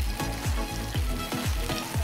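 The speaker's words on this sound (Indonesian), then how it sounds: "kita tumis sampai airnya sedikit menyusut" Blended chili and shallot sautéing in a hot pan give a steady, loud sizzle, broken by rhythmic stirring strokes every half second or so, with no talk.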